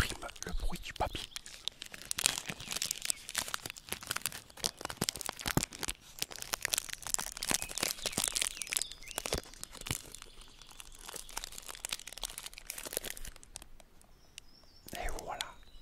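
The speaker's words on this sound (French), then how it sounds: "Tu as en prime le bruit du papier." A paper wrapper on a protein bar crinkles and tears in repeated bursts of sharp, close crackling, with whispered talk in between and underneath, then the crinkling fades into quieter handling near the end.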